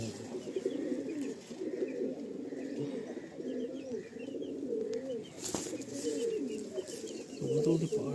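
Madrasi pigeons coo steadily in a loft, a continuous low rolling murmur of several birds with faint chirps and an occasional louder sound, with a voice briefly audible.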